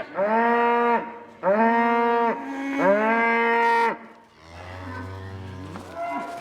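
Hungry cattle in a field with plenty of grass and last year's bales, giving three loud, drawn-out moos in a row, followed by a lower, rougher bellow with quieter calls behind it.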